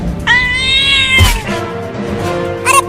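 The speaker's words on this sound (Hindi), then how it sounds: "वो बिल्ली मेरा बड़ा आइसक्रीम लेकर भागने लगी।" A cartoon cat lets out a long, loud meow, then a shorter lower cry and a sharp final yowl, with thumps between the calls.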